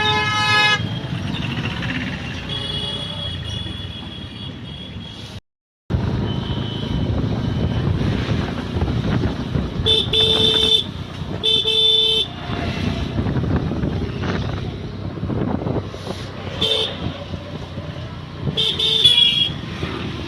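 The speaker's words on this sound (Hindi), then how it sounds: "ट्रैफिक भी बहुत है।" Heavy city road traffic near a clock tower fills the scene with a constant engine rumble, while several car horns toot and honk repeatedly at close range.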